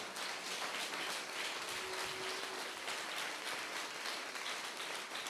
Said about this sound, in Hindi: जोरदार ताली बजा के प्रभु को महिमा दे।